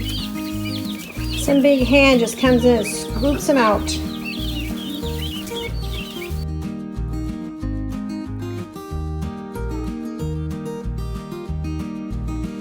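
Young guinea fowl give bursts of rapid, scratchy chirping calls near the start, mixed in with a person talking and steady background music throughout.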